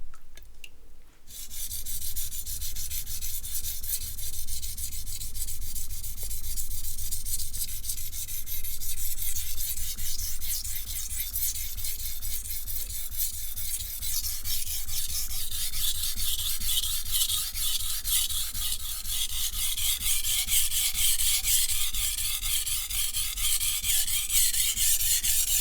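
An asymmetrical bevel knife scrapes steadily across a sharpening stone, a continuous close, gritty rasp of repeated strokes lasting over twenty seconds without talk.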